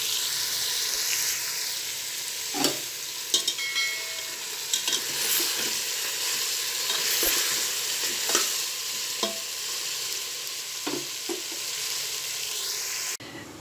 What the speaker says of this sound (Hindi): अब हम इसके अंदर डालेंगे गोश्त और प्याज। पाँच से 7 मिनट हम इसको फ्राई करेंगे।